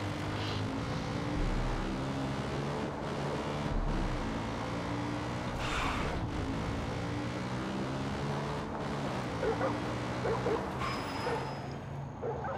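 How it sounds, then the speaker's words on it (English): A dog in the Far Cry 5 video game barks and yips in scattered bursts over a steady droning engine hum like an aircraft, with whimpering sounds and no talk. "Oh, it's a dog."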